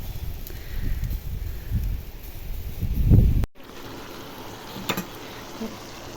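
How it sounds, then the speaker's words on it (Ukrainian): Strong wind buffets and rumbles close to the microphone in heavy gusts outdoors at an open-air cooking spot, then suddenly drops to a quieter, steadier background hiss. "Затулили ось від вітру, бо вітер страшний."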